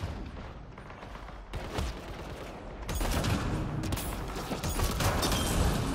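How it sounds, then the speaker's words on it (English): Enemy gunfire in the video game Apex Legends, a dense stream of rapid shots and impacts that grows louder and heavier midway through, with no talking. "Enemy fire, careful!"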